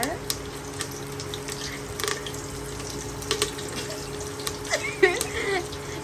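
Mustard seeds and curry leaves sizzling in hot oil, a steady soft crackle with scattered sharper pops and a faint water-like hiss beneath, fairly close, with no talk.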